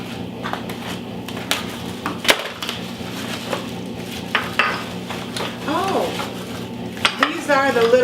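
A 13-piece Curtis Stone cookware set being unpacked, with pots, pans and lids clinking and clattering against each other in scattered sharp knocks and metallic rings, some louder clangs, and a short voice near the end.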